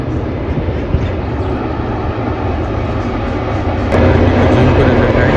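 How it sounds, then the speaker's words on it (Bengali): A train approaches along a railway line in a rural village, a loud, steady low rumble that swells noticeably louder partway through as it draws nearer. "ট্রেন আওয়াজ পাচ্ছেন, সম্ভবত চলেই আসছে"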